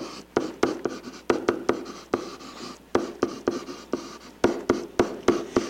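Pen writing on paper, with a series of quick scratchy strokes and sharp taps coming in irregular bursts, close and clear with no voices.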